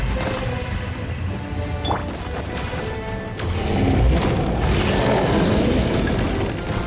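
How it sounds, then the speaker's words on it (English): In the Genshin Impact video game, a bomb explodes in a creature's mouth with a heavy crash, then a loud, rumbling boom that swells and lingers amid game noise. "There's a bomb over there! Just like before, throw the bomb right into its mouth!"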